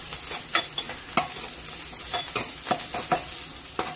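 Green chilli chicken shallow-fries in a pan with a steady, close sizzle, broken by a string of sharp stirring scrapes and clicks every half second or so; no one speaks.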